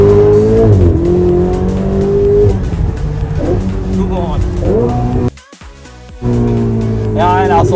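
A 2018 Ferrari 488 GTB engine revs hard and climbs through gears in automatic mode, roaring close by, with a brief drop between pulls and someone talking over it.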